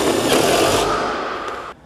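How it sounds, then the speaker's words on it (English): A screw gun fitted with an adapter whirs loudly as it cranks down a Forest River travel trailer's stabilizer jack, a short continuous motor drone that slows and cuts off abruptly near the end. "I would recommend using a screw gun and this adapter to really speed up the"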